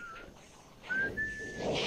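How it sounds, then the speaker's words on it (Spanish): Whistled tune in an episode of the Cowboy Bebop anime, a thin sustained melodic line rising in the second half, moderately faint over a soft background bed with no talking. "¿Qué estará silbando?"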